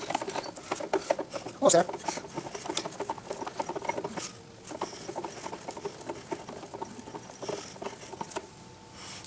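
Thread being cut through a bore with a hand tap, a soft irregular patter of small clicks and scrapes going on throughout, with a brief spoken remark.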